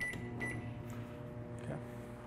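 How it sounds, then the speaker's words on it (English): Microwave oven running while heating a sugar-free chocolate cake batter, a steady low hum with a couple of faint clicks, heard alone. "I'm gonna go ahead and I'm gonna microwave it"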